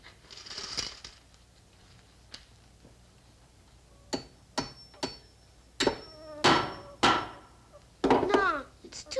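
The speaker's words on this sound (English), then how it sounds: "I guess nail hammering's too hard." A hammer strikes nails in a string of sharp, separate knocks, sparse at first and then coming faster and louder toward the end, with children's voices and other noises in between.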